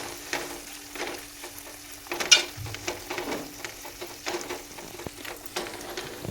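Mashed potato and corn being stirred in a hot pan on the stove, with soft scraping strokes over a steady low sizzle of frying and irregular clicks of the spoon against the pan, close by and with no talking.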